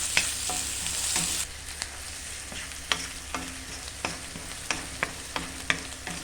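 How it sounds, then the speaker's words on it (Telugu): Cabbage frying in a pan for chicken fried rice makes a soft sizzle that drops after the opening, with a series of sharp spatula taps and scrapes against the pan at roughly regular intervals. "లాస్ట్లో క్యాబేజ్ కూడా వేసేసి ఫ్రై చేయండి."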